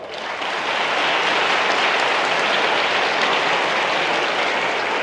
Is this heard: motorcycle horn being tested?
no